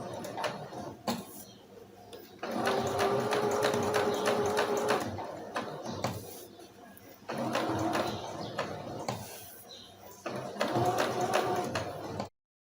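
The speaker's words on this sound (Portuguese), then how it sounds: "Temos que costurar exatamente na linha riscada." A sewing machine runs in bursts as it stitches fabric along a drawn line. It gives a rapid, even mechanical whirr with short pauses between the runs.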